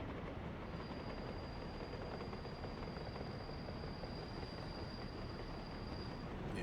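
Trains run on track in the video game Workers & Resources: Soviet Republic, making a continuous dense rail rumble with a thin, steady high whine above it. The level stays constant throughout, with no voices.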